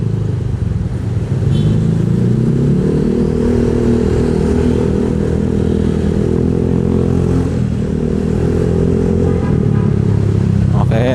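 A Honda Vario 150 scooter engine runs loud and close, its low drone rising into a sustained rev that holds steady with slight wavering, ending in a faint rattle.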